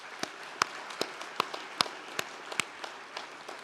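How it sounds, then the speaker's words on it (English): A small audience at a university graduation ceremony claps for the piper who has just piped them in, with a sparse scattering of separate, fairly distinct hand claps over a quiet room. "I think we need a big round of applause to our piper who's just piped us in."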